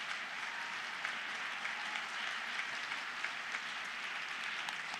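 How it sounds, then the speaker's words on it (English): Audience applause at a live foreign policy debate, a steady, dense wash of clapping from a crowd that holds evenly for the full stretch with no talk over it. "to give Heather Hurlburt and Robert Kaufman a big round of applause."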